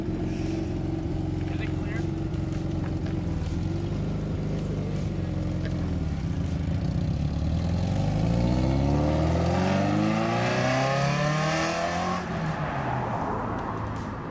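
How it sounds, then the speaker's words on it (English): A Toyota MR2 SW20 with a Beams engine swap drives close by, its engine revving so the pitch climbs, dips and climbs again as it accelerates, loud and steady throughout. "I'm driving my car!"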